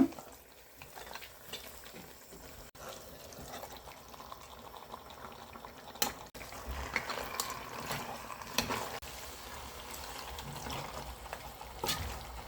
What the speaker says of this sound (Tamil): இதுமாரி வந்து நல்லா கிண்டி விட்டுக்கணும்.